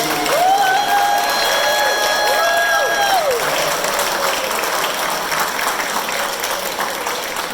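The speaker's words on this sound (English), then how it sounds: "Please join me in offering him a round of applause for his incredible work." An audience at a San Francisco police, firefighters and sheriffs' awards night gives a sustained round of applause that stays loud and even throughout. A whistle or cheer rises over it in the first few seconds.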